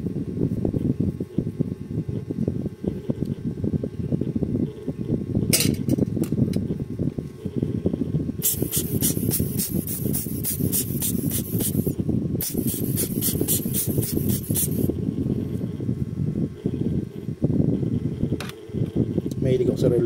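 Car nano ceramic coating is sprayed onto a Casio DW-6900 watch in two clusters of short, rapid hissing spray bursts, close by and partly under someone talking.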